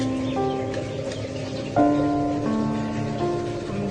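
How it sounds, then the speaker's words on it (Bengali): Water poured from a bowl into a pan of fig curry: a steady pouring and sizzling wash with faint tonal ringing, fairly loud and close, with no talking. "1 বাটি জল এখানে দিয়ে দিলাম।"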